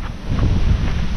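Wind buffets the microphone in a brief rumbling gust, low and muffled, with no other sounds.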